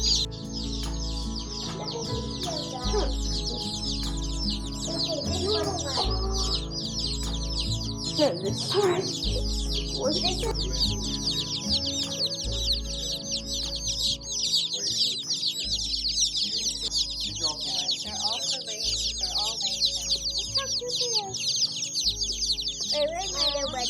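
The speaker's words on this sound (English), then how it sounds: "these are our new laying hens" Laying hens cluck and chirp busily close by, a constant chatter of soft calls over a rhythmic low thumping hum.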